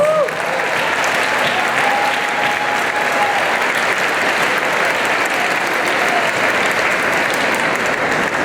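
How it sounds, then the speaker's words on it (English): A hall full of students at a school celebration breaks into loud, sustained applause that fills the whole stretch with dense, continuous clapping and no break. "I want you to give yourselves a round of applause"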